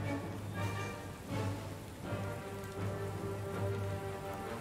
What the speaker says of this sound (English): because it started raining